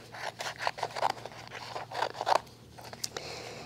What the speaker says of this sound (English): I'm just going to cut it out of my vinyl